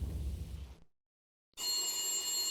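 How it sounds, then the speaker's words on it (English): An old, beaten-up phone rings in an entrance hall in the video game Max Payne, its steady electronic ring clear and close after a burst of rumbling noise and a short pause of silence. "A beaten-up phone in the entrance hall was ringing."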